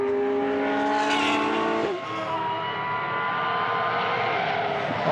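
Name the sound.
race car engine noise on track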